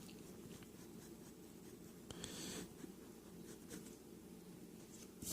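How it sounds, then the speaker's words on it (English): A rubber eraser scrubs a pencil drawing off paper, giving soft, quiet, uneven scratchy rubbing strokes with a few brief louder passes. The sound is close and faint. "I'm just going to erase the entire thing."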